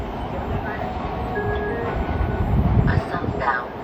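A MARTA Gold Line train approaches West End station, its low rumble swelling steadily while a station announcement voice plays over it.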